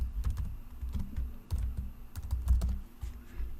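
Fingers tap out an email address on a computer keyboard, a quick run of light, close clicks in uneven bursts, faint and alone with no talking.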